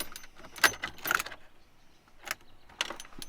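Car keys jangle in a few short, sharp bursts, picked up beside an old Chevy pickup, with quiet pauses between the shakes.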